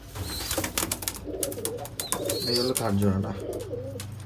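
Giribaz pigeons coo softly nearby while someone speaks over them.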